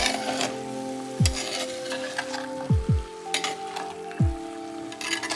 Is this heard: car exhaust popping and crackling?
no